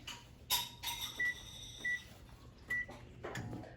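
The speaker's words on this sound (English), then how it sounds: "If the mixture isn't smooth, then put it in the microwave for 30 seconds." Microwave oven heating a smooth baking mixture in a bowl, with a low hum, button beeps, and a door or cupboard clunk in a quiet kitchen.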